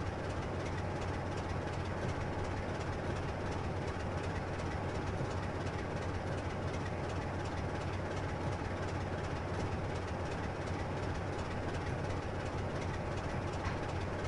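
A train runs along the East Coast Mainline in Train Simulator, giving a steady, unbroken rumble of engine and wheels on the rails for the whole stretch, with no voices.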